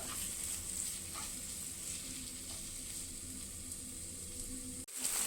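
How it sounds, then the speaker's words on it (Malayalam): Chopped tomato sautéing in a pan, a steady close sizzle with a few soft stirring scrapes, even and continuous before a brief drop near the end. "ഇനി അതിലേക്ക് ഒരു തക്കാളി കട്ട് ചെയ്തൂടെ ചേർത്ത് കൊടുക്കുക നന്നായി നന്നായിട്ട് വഴക്കിയെടുക്കുക"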